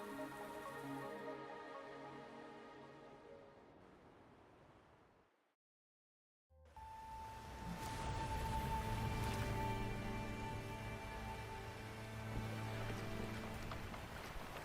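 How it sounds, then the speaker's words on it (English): Rain falls in the Wuthering Waves video game, a steady broadband hiss that cuts out briefly to silence, then returns fuller and louder. "The rain is subsiding, and the sky will soon clear."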